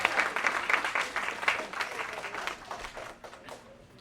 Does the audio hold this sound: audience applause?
yes